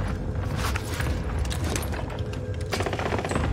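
Owen gun firing in a video game, a loud, dense, continuous automatic burst of rapid shots with mechanical rattle running the full length, close and forceful, with no talking.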